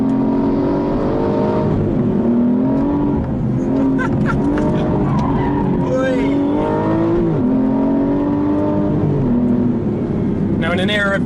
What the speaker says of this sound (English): it's just fantastic to get in a big V12 engine